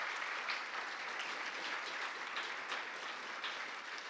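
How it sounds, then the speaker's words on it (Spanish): Steady applause from an audience at a regional school oratory final, many hands clapping in a continuous, moderately distant wash with no voices standing out. "Fuerte el aplauso para nuestros amigos de Mi Ambiente."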